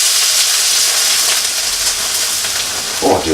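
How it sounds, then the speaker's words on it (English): Loud, close hissing sizzle of vegan mince hitting hot vegetable oil in a wok, a dense steady crackle that holds throughout with a small clatter near the end. "Ready for the sizzle?"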